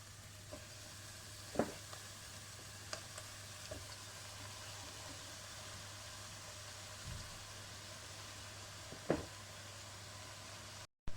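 Chard leaves sautéing with onions in a pan give a faint, steady sizzle under a low hum, with a few soft stirring knocks along the way.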